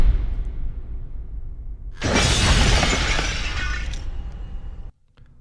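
A sound effect of text shattering into little pieces: a loud, bright burst of breaking glass that sprays out for about two seconds over a low rumbling bed, then cuts off abruptly.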